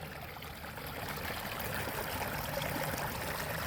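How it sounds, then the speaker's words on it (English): A small waterfall runs steadily beside a houseboat on the water, a continuous close rushing splash with no breaks. "We got our own little waterfall."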